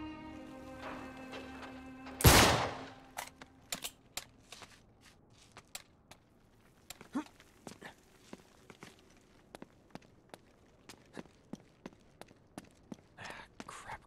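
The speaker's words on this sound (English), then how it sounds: "Back up, I'll shoot the lock." A single sharp, loud gunshot blast at a lock in Uncharted 3, followed by a run of scattered, crisp footsteps and small clicks and taps.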